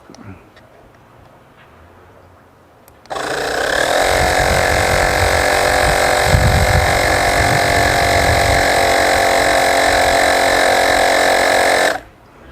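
A Modari portable air inflator pump switches on abruptly and runs loud and steady, a continuous motor whine with a buzzing rattle underneath, then cuts off sharply near the end; a faint voice is heard quietly before it starts.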